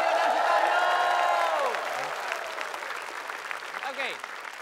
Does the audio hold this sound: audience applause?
yes